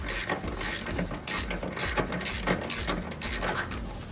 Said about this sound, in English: Bit of spanner action. Sorry, socket action.